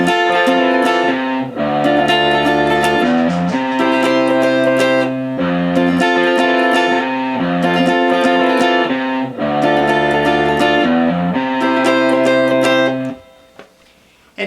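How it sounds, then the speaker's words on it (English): Distorted electric guitar plays the second-guitar bridge riff of a song against a chord part, a dense, continuous, loud line with steady moving notes for about thirteen seconds before fading out. "other guitar's bridge riff should sound like this."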